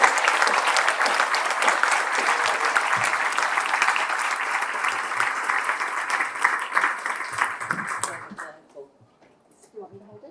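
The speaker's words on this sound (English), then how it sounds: "let's give her a round of applause" Sustained audience applause fills the hall at the 82nd CAL Awards ceremony, dense clapping holding steady for about eight seconds before tapering off into a few scattered claps and quiet room sound.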